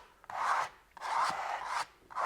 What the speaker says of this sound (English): take your scraper. Okay. And you're going to scrape and lift.